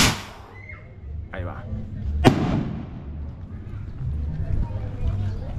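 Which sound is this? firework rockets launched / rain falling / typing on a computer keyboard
firework rockets launched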